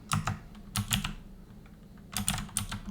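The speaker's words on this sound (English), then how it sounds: "Sorry for my clunky keyboard." Clunky computer keyboard clacking as someone types a file name while saving a part in Autodesk Inventor, several quick bursts of close, sharp keystrokes separated by short pauses.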